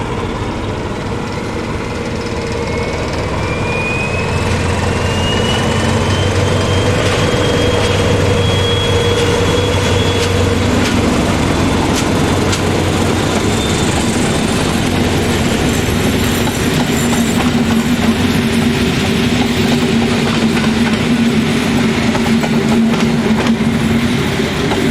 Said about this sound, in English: a class SM42 departs on an empty stock working